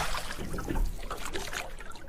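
A cartoon rowboat glides through river water in the Sundarbans, giving soft continuous trickling and gentle splashing at close range with no voices.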